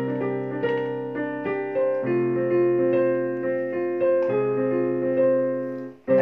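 Keyboard accompaniment rhythm played with thumb and little finger on a C octave, cycling through four chords; sustained tones with regular rhythmic re-strikes, clear and steady, ending abruptly with a short fade.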